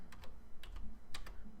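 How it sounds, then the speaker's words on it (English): Quick clusters of computer keyboard keystrokes, several sharp close clicks in short bursts, with no talking. "I'm typing"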